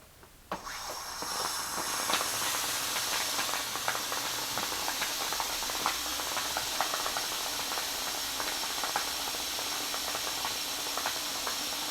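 Steam is forced through a tube into a container of rice, producing a loud, steady hiss that starts abruptly and continues evenly with faint crackling throughout.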